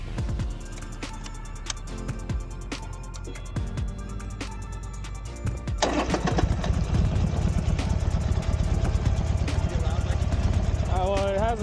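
Buell XB12R motorcycle with a muffler runs steadily, then grows louder and rougher, close by, under a continuous mechanical rumble.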